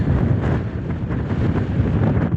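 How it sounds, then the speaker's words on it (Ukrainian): Heavy wind buffets the microphone outdoors in Argentina, a loud rumbling roar that gusts and pulses without pause; no voices. "Вітер, як завжди, все спортить"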